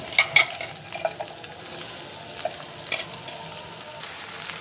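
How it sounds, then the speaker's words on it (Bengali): Onions frying in hot oil in a wok, a steady low sizzle with a few sharper crackles and pops near the start, moderately close and with no voices. "কড়াইতে আরও একটুখানি তেল গরম করে এখন দিয়ে দিব পেঁয়াজ।"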